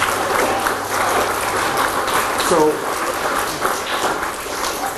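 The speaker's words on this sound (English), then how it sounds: "again. Round of applause." A crowd at a city Arbor Day celebration in Wichita applauds in a sustained, loud round of clapping, while a speaker's voice briefly carries over it near the start.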